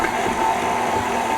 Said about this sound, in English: Using my paddle attachment, I'm gonna slowly mix this and cut the butter into the dry ingredients.